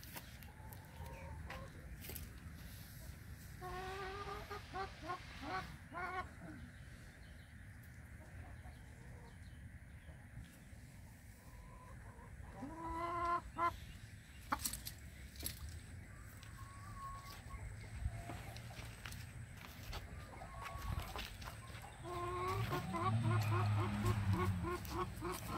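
Chickens cluck in bursts around a hen sitting on eggs about to hatch, with a rooster-like call and scattered rustling; a voice murmurs faintly at times.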